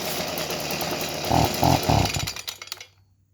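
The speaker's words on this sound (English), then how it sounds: "But the minute you give it more gas, it bogs down and dies." A small petrol engine, tagged as chainsaw-like, idles with a rough buzz, surges in three brief revving bursts as throttle is given, then sputters, bogs down and cuts out into silence, close and fairly loud.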